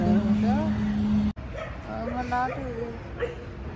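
A dog gives short, high yelps and whimpers close by, mixed with a person's voice.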